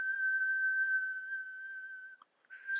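One person whistles a single steady, sustained note for about two seconds, clear and close, before it breaks off and briefly resumes; recorded for a Pasco datalogging trace.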